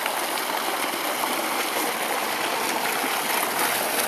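Water from a solar-powered tube well pours steadily into a large bathing tank, a loud, continuous rushing flow like a stream, with no pauses.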